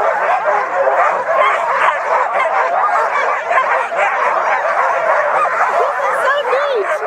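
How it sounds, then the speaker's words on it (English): A pack of sled dogs at Lake Tahoe barks and yips without letup, an excited chorus of overlapping high yelps and whines that holds at steady, close loudness throughout. "There's our puppies. They're ready to go."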